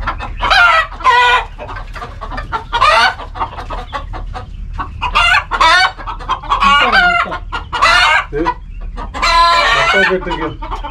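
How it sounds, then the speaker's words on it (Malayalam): Native country chickens, including roosters and fighting cocks, clucking and crowing up close in loud repeated bursts, with calls overlapping and a low background hum. "മൊത്തവും കോഴി വേണ്ടേ, പൂങ്കോഴി പടക്കോഴി ഒക്കെ ഉണ്ട് കേട്ടോ."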